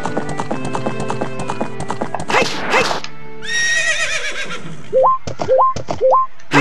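A horse in the video game Zelda Ocarina of Time gallops with quick rhythmic clip-clop hoofbeats, then gives a bright shrill neigh, followed by a few short rising game tones; loud and close, with no talking.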